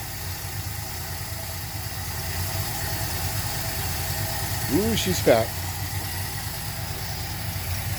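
A car engine with dual Holley 1920 carburetors idles steadily in drive with a low, continuous rumble, while a person talks briefly over it.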